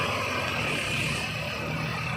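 A Ford diesel tractor engine idles steadily outdoors, a continuous low mechanical drone with a rough, even texture throughout, fairly close and moderately loud, with no speech.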